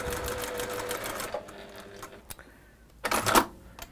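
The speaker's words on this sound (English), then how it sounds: "So we're just sewing along that marked line." A sewing machine stitching along a marked line, a close rapid mechanical whirr for about a second and a half, then quiet handling clicks and a second short burst of stitching.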